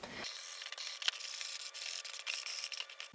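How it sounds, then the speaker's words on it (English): Steady scratchy rubbing of fine-grit sandpaper over the foam seams of a Mandalorian helmet, continuous strokes close by with no talking. "really fine grit sandpaper. We can go over some of these seams."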